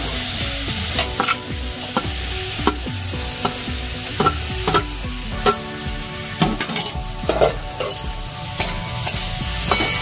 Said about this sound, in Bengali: এটাকে এবার ভালো করে নেড়ে চেড়ে মিশিয়ে নিতে হবে মশলার সঙ্গে।